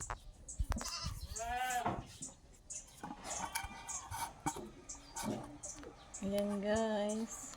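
Goats bleat repeatedly at close range on a rural provincial farm, wavering calls rising and falling between stretches of people talking nearby.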